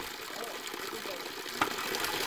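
Icy mountain spring water streams in a steady, broad rush near a high-altitude trail, with someone talking over the flow.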